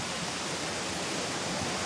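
Steady broadband roar of the Cascade de la Queue de Cheval waterfall running strong after heavy rains, a constant dense rush of water without pauses.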